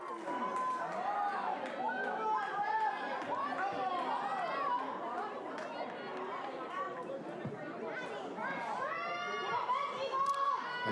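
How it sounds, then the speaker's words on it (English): Home crowd at a girls' varsity soccer playoff between Skyline and Issaquah: a steady, dense murmur of many voices with scattered shouts and calls, sustained throughout at moderate volume. "And the home crowd is not happy with the non-call."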